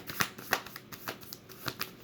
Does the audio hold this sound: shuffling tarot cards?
yes